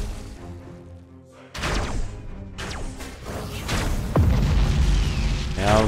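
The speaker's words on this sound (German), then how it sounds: "das Wrack explodiert gleich" A derelict starship wreck blows up in the space battle game Battlefleet Gothic: Armada 2, producing a sudden deep boom followed by a second heavy blast over a dense, rumbling battle din.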